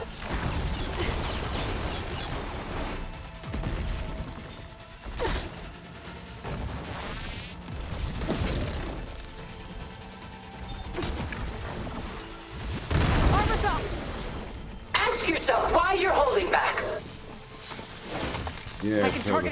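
Repeated booming explosions from a barrage in the Horizon video game crash and burst over about twenty seconds, loud and close, with heavy game combat noise and someone talking over it at times.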